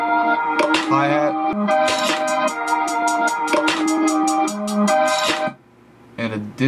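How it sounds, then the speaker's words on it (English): Quick, faint hi-hat ticks repeat in a steady rhythm beneath a synth melody loop, sounding set back in the mix. "And a distant hi-hat."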